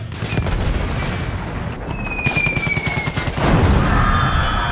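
A BL 9.2-inch siege gun fires in a World War I video game, its heavy booms sounding amid a rapid crackle of distant gunfire that swells toward the end.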